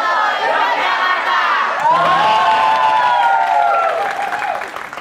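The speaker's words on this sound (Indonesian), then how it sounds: "Tepuk tangan." A crowd of students at a live event applauds and cheers loudly, with shouts and whoops rising over steady clapping throughout.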